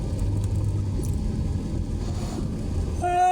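Slow Friday evening traffic on the NLEX heading toward Malinta, heard as a continuous deep engine and road rumble, with a brief brighter tonal sound near the end.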